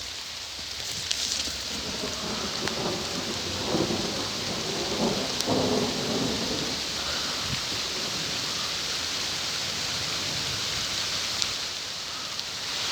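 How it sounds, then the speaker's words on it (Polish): Steady heavy rain pours down outdoors near a private plot by a car service building, a dense continuous hiss with low thunder rumbling through the middle, no voices. "Deszcz trochę osłab."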